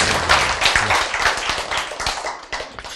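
An audience at a lecture hall talk breaks into dense, continuous applause, many hands clapping together at close range and fading slightly toward the end.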